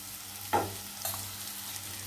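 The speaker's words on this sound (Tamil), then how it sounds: "இப்போ இதில் வந்து இதை மிக்ஸ் பண்ணிக்கலாம்" Couscous being stirred and frying in a pan, with a short scrape and a faint sizzle over a low kitchen hum.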